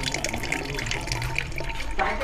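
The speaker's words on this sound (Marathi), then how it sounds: "इथं पाण्याची धार बघा किती स्लो आहे." Slow stream of water running from a village tap in a place short of water, a steady close trickle and splash with people talking nearby.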